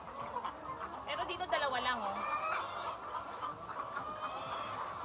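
Caged laying hens cluck and squawk close by, with several overlapping calls and a steady flock murmur behind them, while a person talks over the birds.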